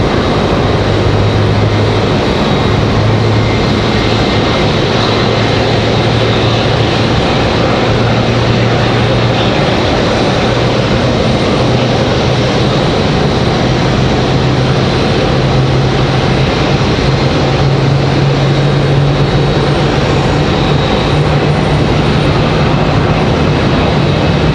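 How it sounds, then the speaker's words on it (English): An Embraer E190 jet readies for departure at Raleigh-Durham International Airport, its engines producing a loud, steady, continuous roar with a faint rising tonal hum underneath, sustained for the whole stretch with no talking. "So it is a E190 AR getting ready for departure."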